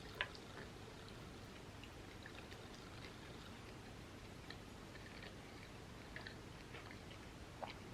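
Soft, close chewing of a vegan mochi during a sushi meal, faint moist smacking and occasional small clicks over a quiet, steady background hiss.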